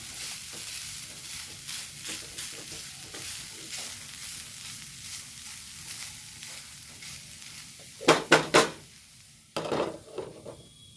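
A pumpkin-leaf stir-fry in coconut oil sizzles steadily in a pan as it is stirred, with a few sharp clatters of the spoon against the pan near the end.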